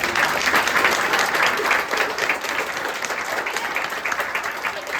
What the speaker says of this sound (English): just a wonderful round of applause for the donors, the incredible people who underwrote it